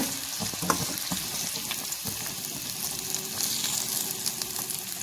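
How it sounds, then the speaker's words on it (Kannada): Onion and tomato fry in oil for a crab masala, giving a soft, continuous sizzle that stays steady and fairly quiet throughout, with no talking. "ಈರುಳ್ಳಿ ಟೊಮೆಟೊ ಎಲ್ಲವೂ ಸ್ವಲ್ಪ ಹೊತ್ತು ಎಣ್ಣೆಯಲ್ಲಿ ಫ್ರೈ ಆಗಲಿ."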